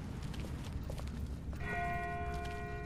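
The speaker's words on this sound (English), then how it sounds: "That's not the same bell as before. This one's further off." In The Walking Dead video game, a distant bell begins ringing partway through, its steady resonant tone sustained over a low, rumbling ambient bed.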